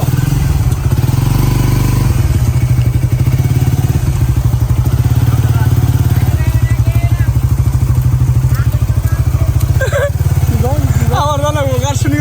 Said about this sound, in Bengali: এই রাস্তাতে বাইক চালানো কষ্ট